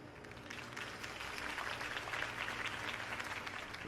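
A crowd in Batman: The Telltale Series applauds a campaign speech steadily, a dense wash of clapping that swells slightly and holds at moderate volume throughout.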